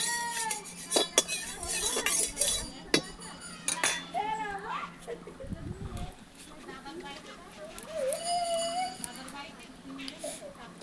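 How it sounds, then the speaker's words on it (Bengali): A spatula spreads oil around a hot wok before small fish wrapped in banana leaves are cooked, making metallic clinks and scrapes in uneven bursts while a person talks throughout. "তেলটা নেড়ে চেড়ে সারা কড়াইতে লাগিয়ে নিলাম"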